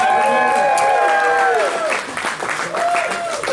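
Audience at a comedy show clapping for a performer named Boomer, a broad wash of applause that fills the room, with sustained musical or whistling tones riding over the clapping.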